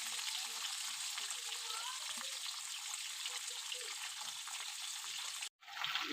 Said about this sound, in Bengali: মাছটা আমি ভালো করে ভেজে নেব।